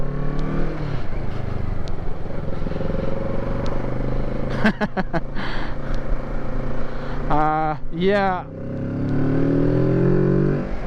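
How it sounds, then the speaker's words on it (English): A Kawasaki Z650 two-cylinder motorcycle engine pulls away from a stop and revs up, throaty exhaust rising and falling through gear changes, with a brief spoken word partway through. "That exhaust there sounds amazing."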